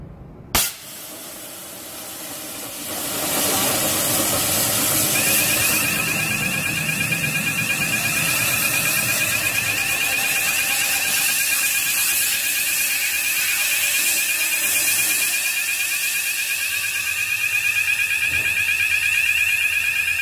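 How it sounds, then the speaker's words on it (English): A fluoroketone tube-based in-panel fire suppression system ruptures with a sharp burst, then discharges in a rising, steady hissing rush while a high, continuous alarm tone sounds alongside it. "So as the tube ruptures, there will be a loud burst sound."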